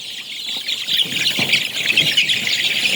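A bird calls close by near a poultry farm, loud continuous chirps and squawks over a steady background, with no talk.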